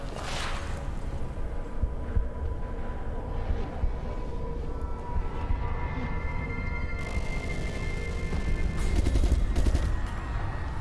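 Gunfire in the survival horror game Resident Evil Revelations 2, a mid-level rattle of shots beneath ambient game music and effects, growing denser and louder toward the end.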